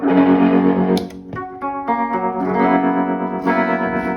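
Electric guitar chords ring out through a pulsing tremolo effect, the volume throbbing rhythmically as the notes sustain and change.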